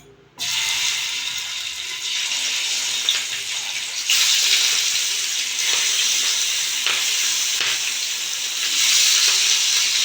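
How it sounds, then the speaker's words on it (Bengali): Rui fish pieces drop into hot mustard oil, and a loud hissing sizzle starts suddenly and holds close and steady, swelling again partway through with spitting crackles, with no voices. "সর্ষে তেল দিয়ে মাছটা ভেজে নেব তেল গরম হয়ে গেছে মাছগুলো আমি দিয়ে দেবো"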